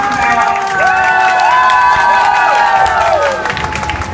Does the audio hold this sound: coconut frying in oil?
no